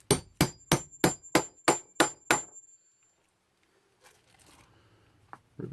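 Eight evenly spaced, sharp hammer strikes set a rivet into a leather holster, loud and close, followed by a stretch of near silence with faint handling noise.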